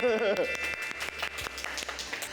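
A short burst of hand clapping follows a brief voice on a Thai food programme about budu from Pattani. Quick light claps patter on under a steady background hum.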